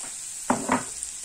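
A spoon stirs chopped bell pepper dusted with flour in a frying pan, two short scraping strokes over a steady soft sizzle, close and fairly quiet.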